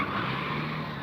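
Loud, fast British-built car called The Beast pulling away, a steady dense engine roar held close and unbroken for about a second.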